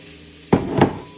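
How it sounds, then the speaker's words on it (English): A sudden sizzle as olive oil hits a hot frying pan, rising into a brief crackling hiss that swells once more before fading. "Then we're gonna add a little bit of olive oil, olio d'oliva, to another frying pan."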